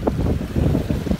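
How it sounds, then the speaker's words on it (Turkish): Low, gusty wind rumbling and buffeting against the microphone outdoors at Selimiye near Marmaris, Turkey, continuous throughout with no voices. "Biraz rüzgar var"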